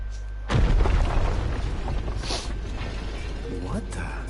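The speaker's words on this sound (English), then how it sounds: "Was that an explosion?" A loud booming explosion in the video game Ni No Kuni II Revenant Kingdom, hitting sharply then rumbling on under game music and effects.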